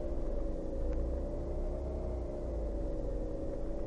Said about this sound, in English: there's several different really odd engine sounds here